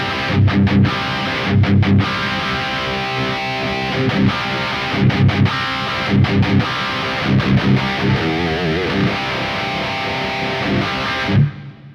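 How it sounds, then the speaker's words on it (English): Heavy metal electric guitar played through a Kemper amp profile with a Tube Screamer pedal engaged, loud tight distorted chugging riffs in stop-start bursts with pauses, ending in a quick fade. "let's kick in that tube screamer and you'll see we're going to get some high end"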